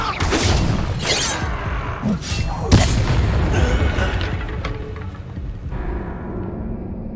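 An Incendio fire spell is cast during combat in the Hogwarts Legacy video game, giving a run of booming blasts and sharp crackling impacts. One loud hit lands near the middle, over a steady layer of game effects.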